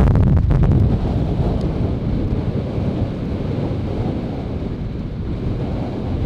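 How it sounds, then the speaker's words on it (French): Strong wind on a seaside sand dune in Japan buffets the microphone with a constant low roar and rumble, steady throughout with no voices. "on allait peut-être avoir un petit peu de vent sur la dune"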